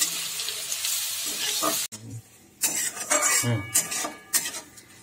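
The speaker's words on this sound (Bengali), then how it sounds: "এবার আমি গ্রেট করা রসুনটা দিয়ে দেব। এটা একটু লাল লাল করে এবার ভেজে নেব।" Grated garlic fries in a pan, stirred with a utensil: bright sizzling and scraping come in bursts, broken by a brief pause, then resume with clinks of metal on the pan.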